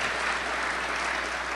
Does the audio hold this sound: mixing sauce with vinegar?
no